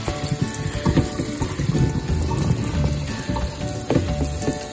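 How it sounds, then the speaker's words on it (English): Running tap water streams steadily over raspberries being rinsed in a kitchen, a close, continuous splashing hiss with small irregular surges and no talking. "So I have here running water going on, and you just gonna pour it slowly."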